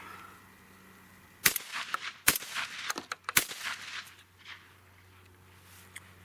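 A Fabarm L4S Sporting 12 gauge shotgun fires antimony-hardened shot on a clay target course, with a few sharp reports in quick succession, each trailing into echoing noise, set against a quiet background.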